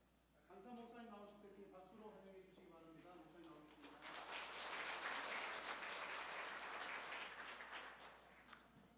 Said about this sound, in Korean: 강사 목사님 나오실 때 박수로 환영해 주시기